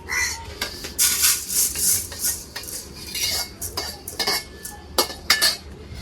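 Fried moong dal is tipped out of a metal pan, with bright clinks and scrapes of a spoon on metal in short bursts and a soft rattle of dry lentils.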